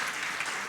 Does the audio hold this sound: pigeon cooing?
no